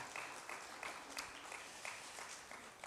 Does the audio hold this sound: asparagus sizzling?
no